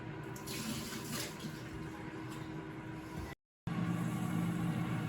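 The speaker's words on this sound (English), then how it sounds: "We're going to empty out the water" Hot water pours steadily out of canning jars into a sink, a continuous close splashing stream that cuts off sharply for a moment and then resumes just as strong, with no talk.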